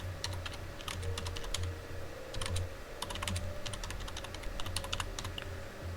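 Fingers tap out quick bursts of keystrokes on a computer keyboard while entering text into a Microsoft PowerPoint slide. The clicks are close and crisp, coming in short uneven clusters with brief pauses between them.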